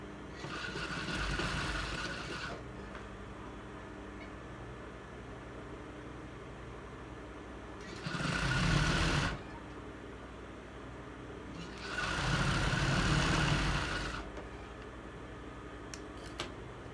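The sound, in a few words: sewing machine stitching a blouse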